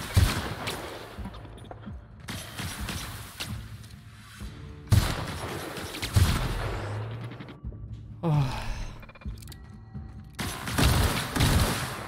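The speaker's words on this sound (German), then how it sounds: "Nimm meine Sniper-Schüsse" Bursts of sniper rifle gunfire in the video game The Outer Worlds crack and boom repeatedly, some rapid and overlapping, with mechanical clatter and brief quiet gaps between volleys.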